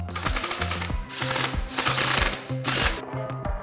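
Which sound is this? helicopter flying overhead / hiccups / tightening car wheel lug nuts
tightening car wheel lug nuts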